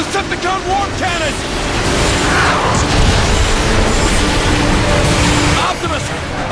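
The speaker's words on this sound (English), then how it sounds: "The Decepticon warp cannon!" Heavy booming blasts from a Decepticon warp cannon in the Transformers: Fall of Cybertron video game roll on continuously, dense and loud, with battle noise and voices mixed in.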